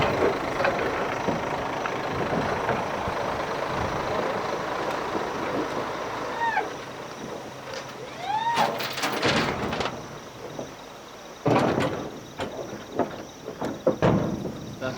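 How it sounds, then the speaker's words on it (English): A large truck engine idles with a low rumble amid outdoor background noise in Kenya, joined by metallic clanks and squeaks as a rhino is loaded, then the engine note shifts as it moves off. "With the rhino safely on board, the truck departs."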